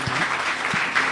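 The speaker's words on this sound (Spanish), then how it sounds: "Le damos un fuerte aplauso al Señor." Church congregation clapping loudly during a Spanish-language worship service, a dense, close wash of applause with a couple of low thumps, heard alone without talk.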